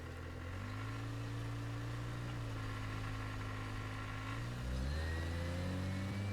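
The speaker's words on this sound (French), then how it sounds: "c'est la voiture de Tuco qui rôde" Car engine of a slowly prowling vehicle, a continuous low rumble that rises in pitch near the end as it revs, close and steady, with music and no talking.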